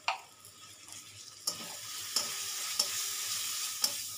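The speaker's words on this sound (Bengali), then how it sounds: "দিয়ে মশলাটা আমি একটু নেড়ে নেব।" Spices for a para fish curry are stirred in a hot pan, a soft sizzle broken by about five distinct scrapes of the spoon at irregular intervals, close and fairly quiet.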